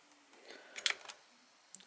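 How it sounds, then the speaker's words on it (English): A few sharp mechanical clicks from the relay of a Roco TT120 35900 motorised, indexed model railway turntable in a quiet room, a small cluster in the middle and another click near the end. "And you can hear the relay clicking over."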